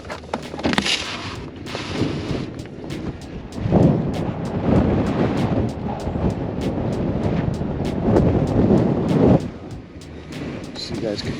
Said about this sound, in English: And the wind is so insanely strong. It's shaking this whole van.